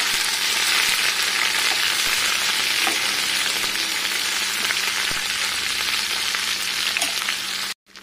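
Coriander leaves and green chillies fry in hot oil for a chutney, a loud, close, crackling sizzle that runs dense and unbroken until a sudden brief dropout near the end.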